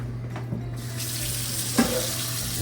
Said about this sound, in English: Just put it in here and rinse it off real good.